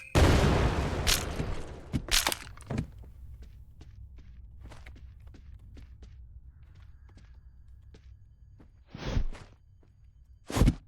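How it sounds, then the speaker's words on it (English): A loud explosion in a video game bursts at the start with a heavy low rumble, followed by scattered sharp thuds and clicks, then two more short loud blasts near the end; no talking. "There is no way she didn't hear that super loud explosion."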